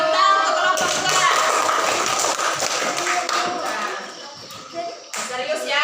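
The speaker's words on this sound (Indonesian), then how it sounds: "Ayo, tepuk tangan untuk kelompok dua." Children in a classroom clap for a group of classmates, producing a lively, uneven patter of hand claps and taps that thins out toward the end, with voices mixed in.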